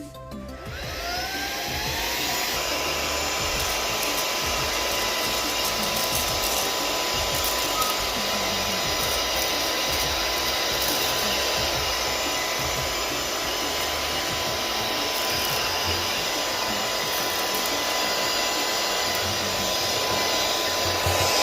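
An OYLIK 2-in-1 cordless air duster vacuum, rated at 90,000 RPM, whirs up to a steady, loud, high-pitched whine and runs continuously while sucking up spilled Fruity Pebbles cereal, with no talking.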